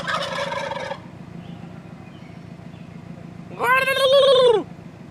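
Wild turkeys gobble loudly nearby in two rattling bursts, one at the start and a longer one near the end, over a steady rumble of a car idling on a road.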